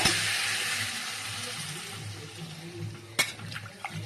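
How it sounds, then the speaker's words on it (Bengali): Water pours into a pot of pumpkin curry, a steady splashing rush that tapers off, followed by a few small clinks near the end. "এবার আমি এখানে একটু জল দিয়ে দিব"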